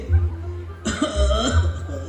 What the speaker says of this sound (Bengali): এই কাশিটা বড় বেড়েছিল